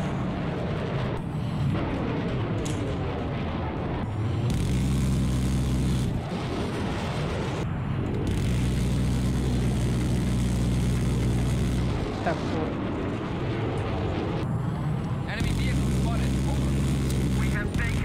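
Jet aircraft in the video game Battlefield 3 on the Gulf of Oman map, with an SU-35BM Flanker-E about: a loud, continuous engine roar and rumbling drone that swells in repeated surges, with voices talking over it.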